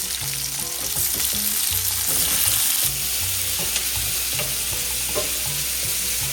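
Green chilli and tomato sizzle in hot oil in a pan, a steady bright frying hiss with scraping stirs throughout, close and loud, no talk.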